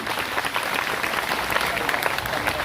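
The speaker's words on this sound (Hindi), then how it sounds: "तालियों की आवाज सुनाई देनी चाहिए बेटा" Children at a school event clap together after a principal is handed a plant sapling, a steady dense patter of many small hands that keeps going throughout.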